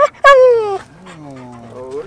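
A dog whimpers and whines in high, wavering cries, one sharp rising whine followed by a longer drawn-out whimper, close and fairly loud with no talk over it.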